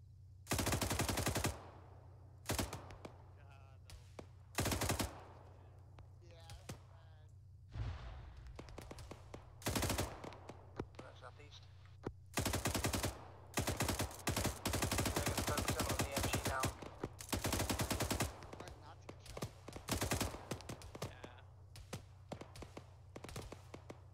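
Bursts of automatic machine gun fire in the military shooter game Arma 3, loud rapid rattling volleys separated by short pauses and scattered single shots, close and sharp, with occasional voices in between.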